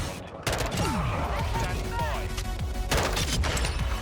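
Gunfire from an M16 burst rifle in Modern Warfare 2, a loud continuous din of shots and game effects filling the mix, with a sharp new burst near the end.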